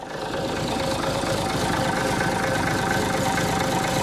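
An Ikarus 260 bus diesel engine with a turbo idles steadily up close just after its first start in years, a continuous rough rumble with a faint metallic whine.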